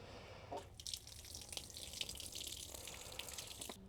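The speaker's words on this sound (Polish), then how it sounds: "Musiałem pójść jeszcze raz i dolać wody do konewki" Water runs from a tap into a watering can in a garden setting, a steady close splashing stream after a couple of faint knocks, quiet overall and ending with a brief clatter.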